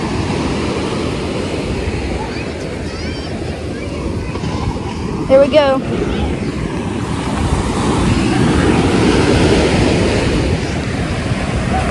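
Steady roar of surf and wind across the whole stretch, with a person speaking briefly and a short excited vocal burst partway through.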